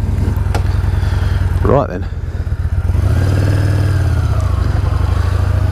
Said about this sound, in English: Do love the sound of that engine, fantastic.